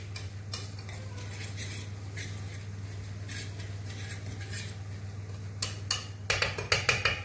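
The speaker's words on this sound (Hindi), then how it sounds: "हमने घोल को भी मिक्स कर रहे हैं" Pakora batter being mixed in a bowl for Punjabi kadhi pakora: a steady scraping, clinking rhythm of a spoon against the bowl under a constant low hum, growing into louder, quicker knocks near the end.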